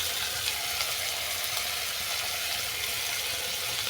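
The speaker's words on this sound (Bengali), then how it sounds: "এটাকে আমি ভালো করে কষিয়ে নেবো যতক্ষণ না মশলা থেকে তেল ছাড়ছে।" Spice paste of poppy seed, salt, turmeric, chilli and garam masala frying in oil for a crab curry, a dense, continuous close sizzle with steady crackling and no speech.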